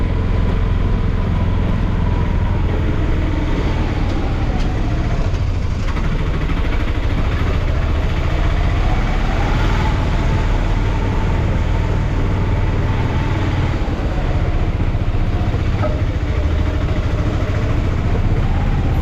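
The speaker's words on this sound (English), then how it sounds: "The tuk-tuk is driving inside." Heard from inside a tuk-tuk auto rickshaw in Rajasthan, India, the engine drones loud and continuous for the whole ride, with road rumble and wind noise filling the low end.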